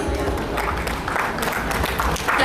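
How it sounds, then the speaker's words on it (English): An audience at an inaugural ceremony applauds, with dense, steady clapping filling the hall and staying loud and continuous with no voices heard over it. "Ladies and gentlemen, please let's give a big round of applause."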